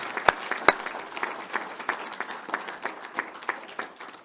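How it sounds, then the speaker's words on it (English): Scattered applause from a small group at an investiture ceremony, with a couple of sharp claps standing out at the start and uneven clapping continuing throughout. "Take a round of applause."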